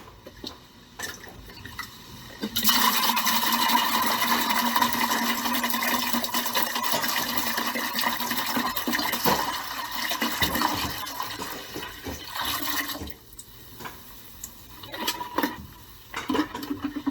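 Vinegar pours steadily into a water heater for about ten seconds, a continuous gurgling splash, then stops, leaving faint drips and small knocks.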